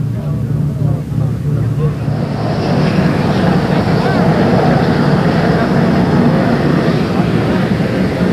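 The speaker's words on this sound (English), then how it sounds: "Now the Army helicopter preparing to take off. The rotors beginning." An Army helicopter at Andrews Air Force Base starts its rotors before takeoff, a loud, steady engine roar and whine building slightly in level, with someone talking over it.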